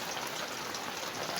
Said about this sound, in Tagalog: hindi pa rin tumigil ang ulan.